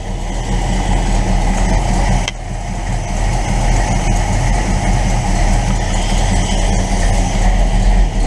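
A carbureted engine idles with a steady, low rumble close by without pause, with a brief dip partway through before the even drone resumes.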